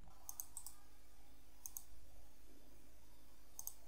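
A computer mouse gives a few small, quiet double clicks spaced apart in a hushed room, paired taps with nothing else audible between them.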